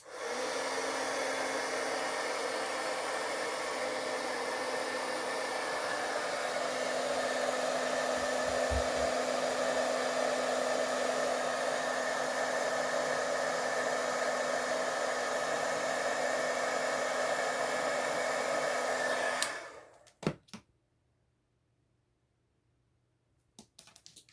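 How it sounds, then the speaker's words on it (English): An embossing heat tool blows hot air onto embossing powder with a steady, loud, close whirring hiss that holds for about twenty seconds, then cuts off abruptly, followed by a few clicks and near silence. "this is an embossing tool, but don't do it over here because it will blow everything everywhere"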